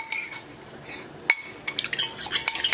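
A utensil stirs mashed butter and flour together in a bowl, giving quick scraping clinks and taps against the dish that grow busier toward the end, close and fairly loud with no talk.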